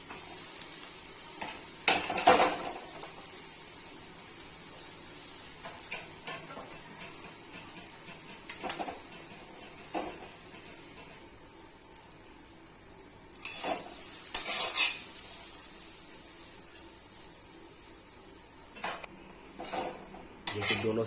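Pieces of elephant foot yam frying in hot oil, a low steady sizzle under repeated clinks and scrapes of a metal utensil against the pan, with a few louder stirring bursts.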